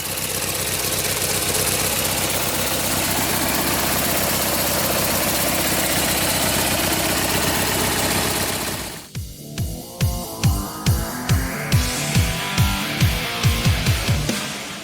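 A tractor engine idles after a cold start, fitted with a LiFePO4 battery: a loud, steady, rumbling drone that shifts partway through into a slower, regular pulsing chug.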